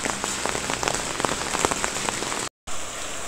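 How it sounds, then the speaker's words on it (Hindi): Light, steady rain falls on a wet village courtyard, a close, even patter of drops hissing continuously with scattered sharper ticks and no voices. "बाहर बारिश हो रही है, बिल्कुल भी गर्मी नहीं है"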